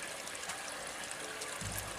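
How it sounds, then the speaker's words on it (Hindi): Natural spring water trickling steadily from a rock outlet near a small tank, a soft continuous wash close by. "ये प्राकृतिक रूप से पानी बह रहा है।"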